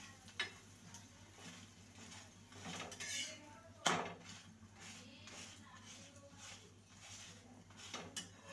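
Mango and flour paratha frying in refined oil in a pan as it is flipped, with soft sizzling, spatula scrapes and a sharp clatter partway through, quiet and close.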